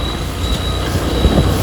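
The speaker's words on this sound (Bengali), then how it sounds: "কারণ মাল গাড়ি যাচ্ছে দেখতে পাচ্ছি" A freight train rumbles past close by at a closed level crossing, with a steady roar of wheels on rails and a thin, sustained metallic squeal above it.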